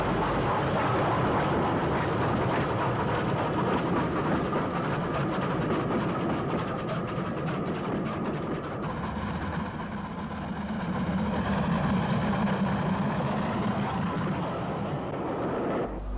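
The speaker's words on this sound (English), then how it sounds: "Another up train powers towards the capital." Up train powering towards London on a British Railways line in the late 1950s or 1960s, a continuous heavy rumble with engine drone that holds steady, eases slightly midway and swells again.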